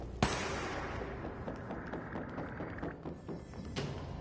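Gunfire in the video game Control, a dense run of sharp shots and thumps in a busy firefight, with strong bursts at the start and near the end.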